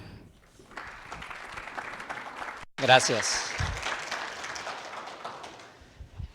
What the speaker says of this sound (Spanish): les invitamos a recibirlos con un fuerte aplauso